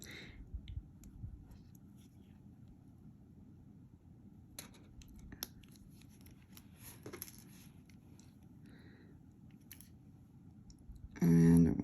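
Small cutters trim jewelry wire while an amethyst pendant is made: sparse, light clicks and snips close by over a quiet, hissy room, with a louder rustle at the very end.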